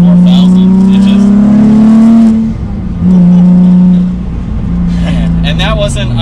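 A turbocharged Nissan 350Z accelerates through the gears, its loud close engine tone climbing, dropping at each shift and climbing again, while a voice talks over it.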